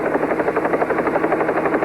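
Steady thudding rotor chop of a helicopter on a police call, loud and close, a rapid even beat with a whining engine underneath.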